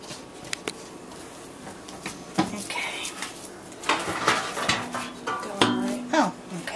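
Pans and pots clatter and clank as a pan is pulled out in a home kitchen while making meatloaf, several sharp metallic knocks and scrapes close by, with no talk.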